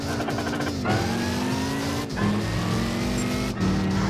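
Race car in Gran Turismo 5 swinging through a J turn, the engine droning loud and steady with pitch drops and climbs at each gear shift and direction flick, no voices over it.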